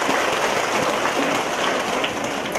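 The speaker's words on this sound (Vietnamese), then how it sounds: "một tràng pháo tay thật lớn thưa anh chị em" A congregation at a Vietnamese Catholic gathering breaks into applause, a thick, steady roar of many hands clapping at once with no individual claps standing out.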